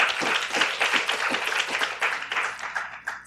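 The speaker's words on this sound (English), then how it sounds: "let's give them another round of applause" Applause from a student conference audience at a final forum, brisk irregular clapping of moderate size, loud at first and then thinning slightly toward the end.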